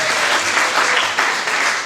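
A church congregation claps and cheers loudly, a steady dense wash of applause that carries on without a break.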